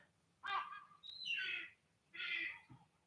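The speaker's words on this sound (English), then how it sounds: "We're getting a lot of very negative noises from the Seagull" A seagull gives three harsh squawking calls in quick succession, moderately close, with a soft low hum underneath and no talking.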